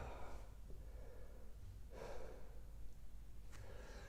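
Forceful breaths come from a person during a power yoga session, sinking into child's pose. A few sharp exhalations burst out, each like a snort, separated by quieter breathing.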